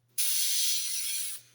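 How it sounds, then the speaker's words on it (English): Single burst of aerosol spray paint onto the engine of a plastic model Opel Blitz truck, a close, steady hiss lasting just over a second that cuts off cleanly into quiet, with a low electrical hum beneath. "I was thinking I'd just spray the engine through those grills with this exterior colour"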